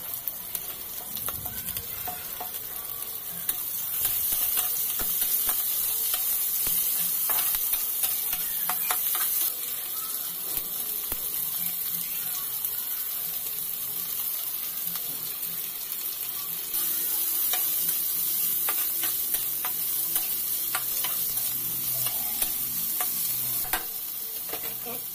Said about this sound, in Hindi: बीन्स डालने के बाद भी हमें अच्छे से थोड़ा फ्राई करना है साथ में इसे